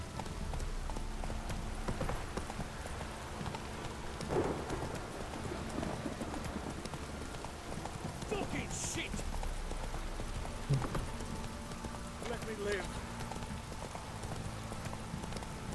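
Roach, Geralt's horse in The Witcher 3, gallops with a steady clip-clop of hooves that runs through the whole passage, mixed with game effects and bursts of voices, with faint rain in the background.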